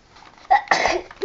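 A person at a Christmas morning gift opening sneezes once, a short sharp burst preceded by a faint breath intake, with a brief vocal sound afterward.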